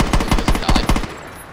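Rapid automatic gunfire in the video game Saints Row 2, a fast burst of about ten sharp shots over roughly one second, then fading out, with no talk.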